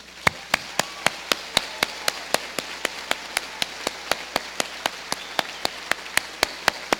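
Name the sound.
graduates applauding at commencement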